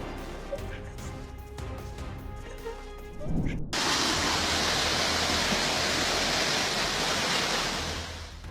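A raging flooded river with a landslide tearing at its bank follows a few seconds of other sound, then bursts into a loud, continuous broadband rush of churning water that holds steady and slowly fades at the end.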